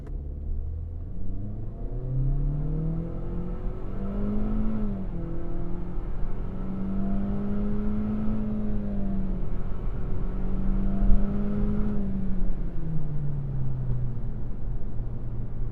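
A 2026 Toyota Corolla XSE's engine strains as it accelerates uphill from a stop, revs climbing steadily through gear changes with a droning whine, heard from inside the cabin.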